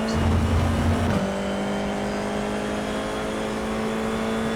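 F4 single-seater race car in a sim racing game at Watkins Glen, engine note steady and loud after a sharp upshift near one second, then holding a sustained high drone as it powers out of a corner.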